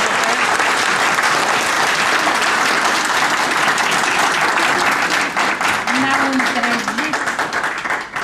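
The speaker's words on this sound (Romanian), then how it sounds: "Să-i și aplaudăm." A hall full of people at a bishop's anniversary celebration claps loudly and continuously. A voice speaks over the applause toward the end as the clapping starts to thin.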